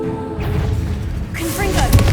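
Confringo spell explosion in the Hogwarts Legacy video game, a brief low boom and rumble followed by crackling debris, with a voice speaking alongside.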